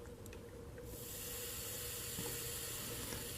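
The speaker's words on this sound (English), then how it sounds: "You can hear the water sizzling now." Steady close hiss of water sizzling under a hot soldering iron tip on an 18650 lithium ebike battery, swelling after a quiet start and holding on.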